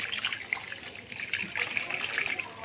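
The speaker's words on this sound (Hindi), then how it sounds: "इस बाउल में आपने चिप्स डाल के इसके अंदर पानी आपने शामिल करना है" Water poured into a bowl of raw potato chips for soaking before frying, a steady splashing, trickling pour that runs close and continuous with no talking.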